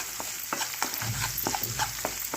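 Frying with turmeric in a pan for a spicy cauliflower-leaf chutney, an even sizzle punctuated by quick rhythmic stirring strokes and scrapes of a spoon, close and moderately loud, without talk.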